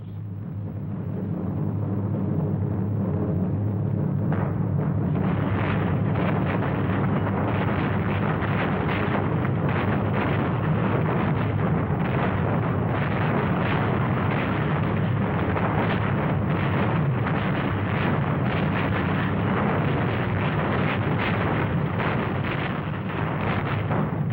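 Allied heavy bombers carpet-bomb a small area west of Saint-Lô, producing a continuous, loud, rumbling roar of massed explosions and engine drone that builds within the first few seconds and holds dense and unbroken throughout.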